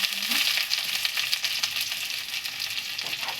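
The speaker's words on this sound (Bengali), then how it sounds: "তেল দিচ্ছি একটু পেঁয়াজটা ভেজে নেব" Onions fry in hot oil in a pan, a bright, close, continuous sizzle with soft crackling bursts, loudest at the start and easing slightly, with no talking.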